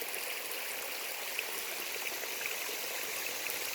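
Water from a supply line pours steadily into a wildlife pond, a continuous soft rushing trickle heard alone at low level.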